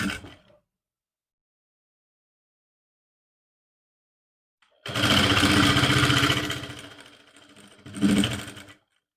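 An electric sewing machine runs hard stitching the neck strip of a lined suit, a loud close whir lasting about three seconds, then a slower stretch and a final short burst after a long silence.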